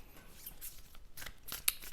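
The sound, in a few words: shuffling oracle cards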